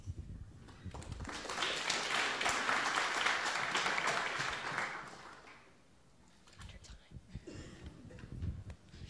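An audience at a learning design summer camp session breaks into applause, a dense burst of clapping that swells for a few seconds and fades, followed by scattered claps and nearby voices.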